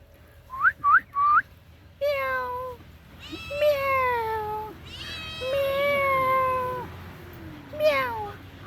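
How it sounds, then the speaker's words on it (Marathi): A cat meows repeatedly, several short rising mews followed by longer drawn-out cries, close and fairly loud, with a few pauses between calls. "जयला शेतावर मांजर दिसलेली आहे फ्रेंड्स"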